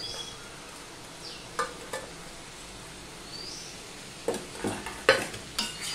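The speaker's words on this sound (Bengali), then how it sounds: "এবার সম্পূর্ণটা আমি মিশিয়ে নিলাম" Ash gourd curry with soft fritters being mixed in a pan, faint scraping and stirring with light sizzling, then a cluster of louder utensil knocks against the pan near the end.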